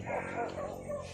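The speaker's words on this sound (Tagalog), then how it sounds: "May mga aso po. Nagkatuloy yung mga aso." A few dogs bark and yip at a distance, quick repeated calls under a steady low background rumble.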